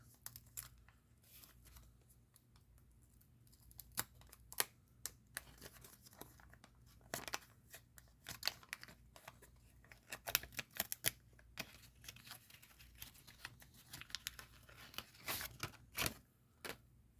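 A Tiny Toon Adventures trading card pack is ripped open by hand, with irregular bursts of crinkling foil wrapper and tearing, close and crisp, separated by quieter pauses and card shuffling, and no talking.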